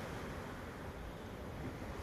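Ocean waves wash onto the Sri Lanka shore in a steady, broad roar of surf mixed with wind noise, continuous and fairly quiet, with no voices.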